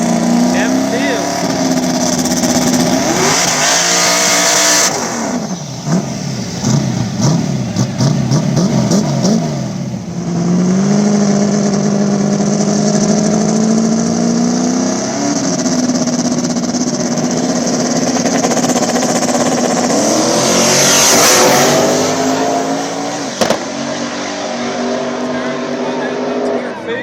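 Small-tire drag racing at an Ohio track has a turbo Fairmont and the Hillbilly Hustler screaming through loud sustained engine revs with rising and falling pitch, while an announcer talks over the roar throughout.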